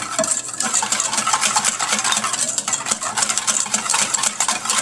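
Salad dressing whisked in a bowl with pepper, salt and cannabis, giving a steady, close scraping and clinking of utensil against dish with no talking.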